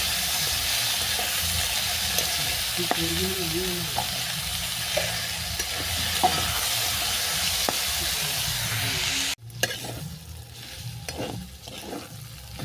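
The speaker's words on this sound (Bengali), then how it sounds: "আলুটাকে ভালো করে ভেজে নেব" Potato pieces with turmeric powder fry in a pan as a steady, close sizzling hiss, with a utensil stirring and scraping now and then, until the sizzle stops abruptly and quieter clattering follows.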